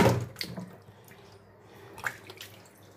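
Beef pieces, bone-in, washed under running tap water in a kitchen sink, a soft steady trickle with a few splashy bursts and drips, close by, no talk.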